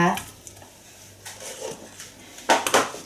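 Som tam ingredients being tossed together with seasoning in a mortar, soft clinking and scraping of utensils against the bowl, building to a few louder knocks near the end, with a voice talking over it.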